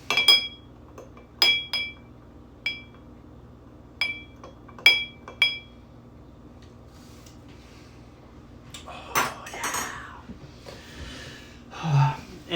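A Campari cocktail is stirred in a rocks glass, with several sharp, bright clinks of ice against glass in quick bursts, then quieter rustling and breathing nearby.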